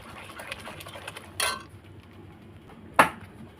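A spoon works milk and three spoons of milk powder in a pot for Bengali mishti doi, giving two sharp metallic clinks against the pot over a faint, quiet background.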